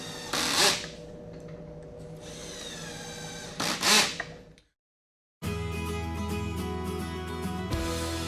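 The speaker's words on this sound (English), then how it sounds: "Then drill 2 pocket holes into the edge of the boards." Pocket holes drilled into the edge of wood boards with a Kreg jig: two loud, whining power-drill bursts, each a few seconds long, separated by a pause. A brief silence follows, then steady tonal background sound.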